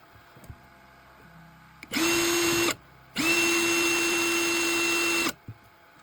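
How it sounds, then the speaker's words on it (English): A power drill driving screws whirs in two bursts, a short one and then a longer steady run, with quiet pauses around them. "So for me, I'm using a drill."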